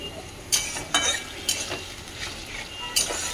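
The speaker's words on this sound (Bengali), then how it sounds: "এটাকে একটু নাড়াচাড়া করে নেবো, টমেটোটা ভালো করে নাড়াচাড়া করে তারপরে মশলাটা দিয়ে দেবো" Tomatoes fry in a pan while a utensil stirs them, with a steady sizzle broken by five or so sharp scraping strokes at an even pace and no voices.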